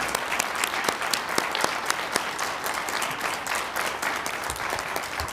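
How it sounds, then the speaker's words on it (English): Audience applause at a city council meeting in Las Cruces, a steady wash of many hands clapping throughout, with sharp individual claps standing out from the crowd. "Give them a round of applause."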